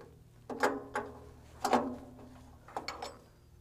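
A wrench turning the hydraulic reservoir cap on a Rayco C100 machine gives three short clusters of metallic clicking and scraping, close and fairly quiet against a low steady hum.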